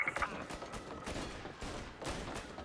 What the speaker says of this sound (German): Schüsse und eine Explosion, gemeldet vom Hotel Corleone.